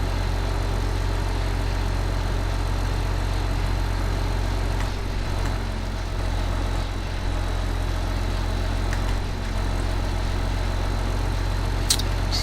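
Tractor engine in Farming Simulator 15 on an American outback farm, a steady low idling drone running throughout, fairly loud and even, with a brief click near the end.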